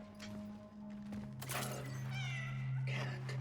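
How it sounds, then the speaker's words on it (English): A cat meows loudly several times in the video game Cronos: The New Dawn on Xbox Series S, over a constant low electronic hum, the cries drawn out and wavering. "it sounded like a cat"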